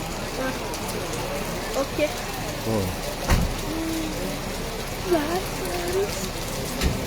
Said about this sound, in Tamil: எப்பயுமே பருவம் தவறாமல் பெய்யக்கூடிய ஒரு மணி நேரத்து மாலை நேரத்து மழை